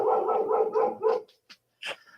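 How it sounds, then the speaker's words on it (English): A pet dog barks and whimpers close by, a run of quick yips followed by a couple of short sharp barks and a higher whine, with no talking. "that is my daughter's dog saying we should probably stop rambling"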